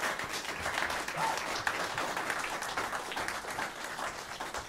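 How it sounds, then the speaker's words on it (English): An audience applauds a student teacher group at a faculty jazz recital, a steady, even wash of many hands clapping at moderate distance that holds at one level with no talk. "Can we have another round of applause for our student teacher group here?"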